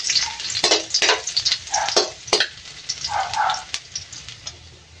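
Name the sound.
ginger frying in hot oil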